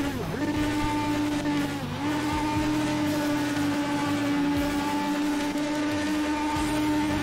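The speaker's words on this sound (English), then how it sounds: "Ben Silva doing some burnouts there" An Indy race car in a racing video game does burnouts on the Cleveland track, its engine a loud, steady high-pitched drone. One brief dip in revs comes early, then the sustained whine continues, with tire noise underneath.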